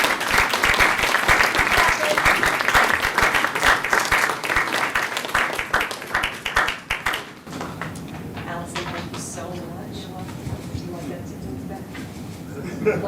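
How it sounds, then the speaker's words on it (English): Applause from an audience at the Tufts Poetry Awards: dense, sustained clapping fills the room and then thins into scattered claps under murmuring voices. "Yes, clap."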